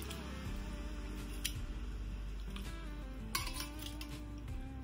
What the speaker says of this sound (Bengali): এবার ওই জলের মধ্যে আমি এই চিকেনের বোনগুলোকে সব দিয়ে দিচ্ছি